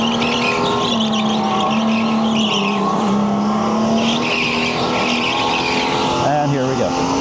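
During an out lap on an indoor track, a go-kart engine whines steadily at speed and is heard close up throughout. A voice talks over it, and there are brief tire squeals near the end.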